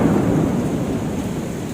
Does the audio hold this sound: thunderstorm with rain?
yes